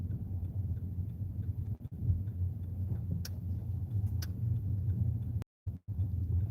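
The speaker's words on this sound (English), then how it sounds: "Let me see if I can park in my usual place." A car rolls slowly toward a parking space on a morning commute, with a steady low engine and road rumble close by, a couple of faint ticks, and a brief dropout near the end.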